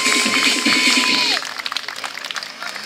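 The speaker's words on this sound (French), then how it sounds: "applaudissements, mesdames et messieurs" An outdoor event crowd applauds and cheers, a dense wash of clapping that continues steadily while someone speaks over it through a loudspeaker.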